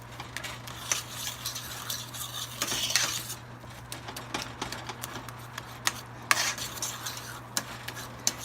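Black beans being mashed in a pan make repeated scraping and clinking utensil strokes with faint sizzling, in a steady uneven rhythm close by.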